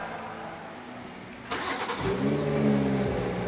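A BMW 740 with a faulty rear differential runs up on a lift as the drivetrain starts turning, its steady mechanical drone rising and holding with a humming whine over a background of workshop noise.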